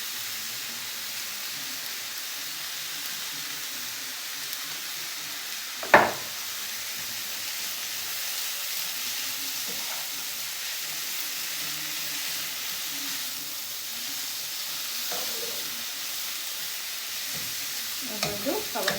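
Vegetables with a little salt frying in a covered pan for a stuffed chapati roll filling, a steady close sizzle over the whole stretch, broken by one sharp clink and a few faint knocks near the end.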